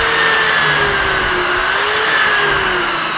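A pocket hole drilled with a Kreg pocket hole jig while building a cherry armoire: a steady, loud, high-pitched drill whine runs without a break throughout, its pitch rising and falling slightly.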